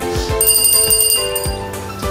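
A notification bell sound effect gives a few bright, quick chimes and dings with short swooshes between them, loud and clear, with no talking.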